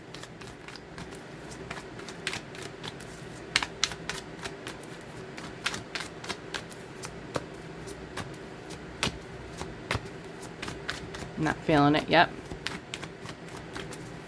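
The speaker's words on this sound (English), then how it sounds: "Let's get a good shuffle here" A tarot deck is shuffled at length, with soft, steady riffling clicks and card taps close by, while a person talks quietly over it and a brief louder voice rises near the end.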